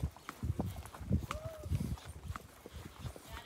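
Horse hooves clip-clop along a canyon trail during a guided horse ride in Somoto Canyon, Nicaragua, a steady run of close, uneven thuds with a faint whinny-like tone partway through.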